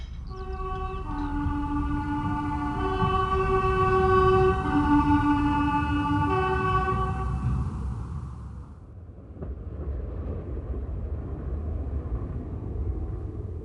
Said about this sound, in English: The first train I had to deal with was the 6:35 all stations to Derby